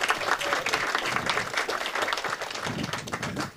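A crowd applauds at a 2008 senior center groundbreaking ceremony outdoors, steady dense clapping that carries evenly through the whole stretch with no talk over it.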